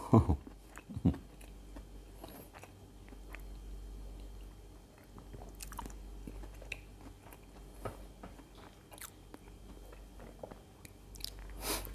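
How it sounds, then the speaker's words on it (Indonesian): Someone chews food close to the microphone, with a few sharp crunchy bites at the start followed by soft, intermittent mouth sounds over a low hum, and no talking. "Sambil ngunyah ya"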